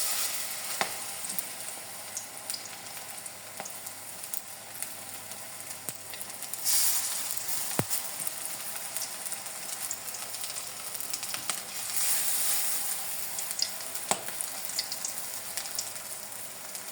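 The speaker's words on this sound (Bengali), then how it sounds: "দেখুন তেলটা আমার গরম হয়ে গেছে। এবার আমি দিয়ে দিচ্ছি এক এক করে," Cabbage pakoras fry in hot oil with a steady, close sizzle and crackle that swells slightly as more pieces go in, lasting the whole stretch with no talk.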